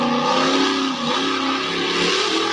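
A pulling Mini powered by a naturally aspirated 613 Chevrolet big block, its engine roaring steadily and close, with the pitch dipping and rising again.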